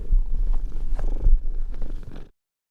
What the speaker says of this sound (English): Cat purrs coming in.